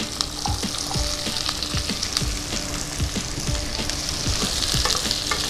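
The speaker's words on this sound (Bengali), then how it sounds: "পেঁয়াজ কুচিটা একটু নাড়াচাড়া করে আমি কেটে রাখা আলুগুলো দিয়ে দিচ্ছি" Chopped onion and potatoes fry loudly in a pan and are stirred, giving a dense, continuous sizzle with repeated scraping knocks from the spoon.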